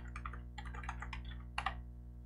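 Quick bursts of key presses on a computer keyboard while entering a password, soft close clicks over a low steady hum, with a final pair of firmer taps.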